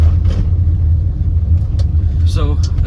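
BMW E30 car driving over a bumpy road, a steady low engine and road rumble running throughout, with faint voices in the background.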